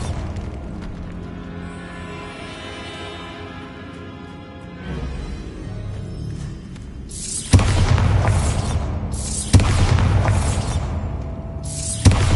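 A Bombarda explosion spell in Hogwarts Legacy: a low rumbling hum builds, then several loud booming blasts with crumbling debris follow in succession.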